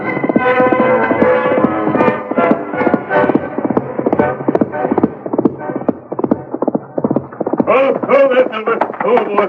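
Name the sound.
horse hooves clip-clopping, radio drama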